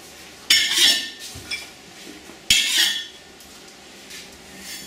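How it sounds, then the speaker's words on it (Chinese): Glutinous rice is dry-stir-fried without oil in a pan over a lit fire, giving two loud, scraping spatula strokes a couple of seconds apart with faint rustling and clinks between. "现在准备炒这个糯米"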